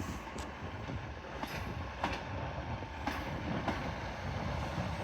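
A Northern Trains class 156 diesel unit, 156468, arriving at Carlisle station on a terminating service, its steady low rumble rolling past with a few brief higher squeals and clicks from the wheels.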